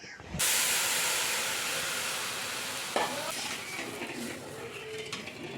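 Tamarind water hits a hot pan of tempering with a sudden loud hiss that settles into a steady sizzle and steamy bubbling, slowly easing off.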